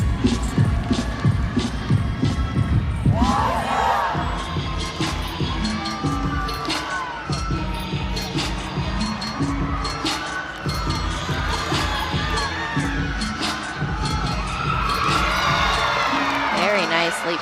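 Home crowd in an arena cheering a Georgia gymnast's floor routine at a college women's gymnastics meet against LSU, a steady loud roar with whoops and shouts under commentators talking throughout.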